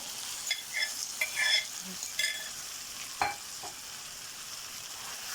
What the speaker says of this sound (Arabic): هدي تشويحه الفراخ وانزل بيها على الفراخ